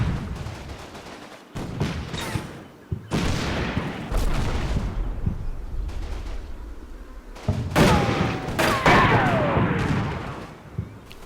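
Tank cannon fire and shell impacts in the World War II tactics game Combat Mission Battle for Normandy, several sharp booming shots with rumbling tails and a ricocheting round, loud and alone without talk.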